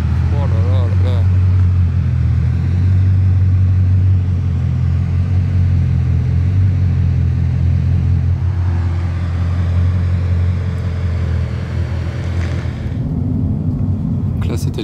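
Bugatti Chiron sports cars, including a Chiron Sport, roll past in a convoy with a steady deep engine rumble and occasional revving, voices talking over the continuous drone.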